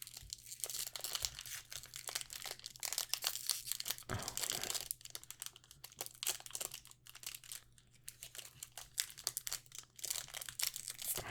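Foil wrapper of a Magic: The Gathering Commander Legends booster pack being torn open, with continuous close crinkling and crackling plus sharp tearing rips, quiet and intimate, with no talking.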